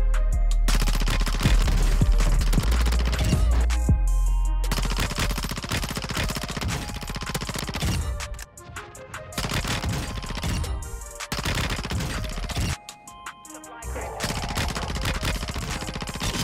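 Rapid bursts of P90 submachine gun fire in Warzone 2, loud and near, broken by short pauses between strings of shots across the whole stretch.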